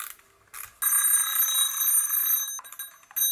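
Repeated electronic beeping from a timelapse camera timer, a bright, steady tone that starts and stops in short bursts, with no talking.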